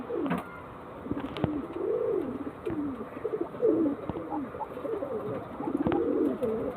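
Pigeons, one female and two males offered for sale, coo steadily in rolling low phrases close by, with a few sharp taps and clicks between calls.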